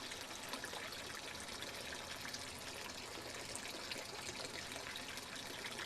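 Water from an artesian well runs in a steady, faint trickling stream, a constant soft splashing wash with no pauses and no voices.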